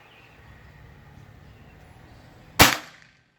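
A PCP air rifle with a 50-length barrel and CS Dome pellets fires a single sharp, loud crack near the end, after a few seconds of quiet background.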